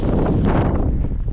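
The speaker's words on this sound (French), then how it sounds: "En plus du vent, on a la pluie qui tombe" Strong wind roars steadily across a mountain hike on Saint-Vincent, with rain driven almost horizontally; a loud, continuous buffeting blast close to the microphone with no pauses.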